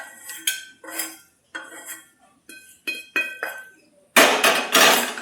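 Cooked food being transferred onto a plate, giving a series of sharp metallic clinks and taps of utensil on dishware in irregular bursts, with a louder scraping clatter near the end.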